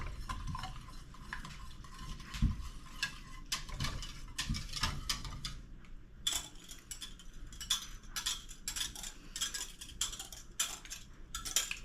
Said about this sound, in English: So I'm going to go ahead and add that to my pasteurized milk and whisk it in.